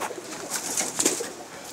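Prized show pigeons coo softly nearby in a short, low, throaty burble, with a few faint chirps over quiet background.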